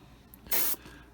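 A short burst of paint from a spray gun hisses loudly for about a quarter second, rising sharply and cutting off cleanly against a quiet background.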